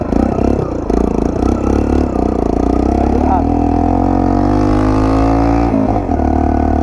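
A Yamaha XTZ125 trail motorcycle engine drones steadily at close range, its pitch climbing gradually as it revs, with rattling clatter early on.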